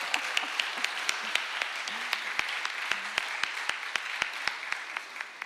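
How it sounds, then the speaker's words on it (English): Steady audience applause at an international awards ceremony, a dense wash of many hands clapping evenly for several seconds at moderate distance, with no talk over it. "You can help with applause."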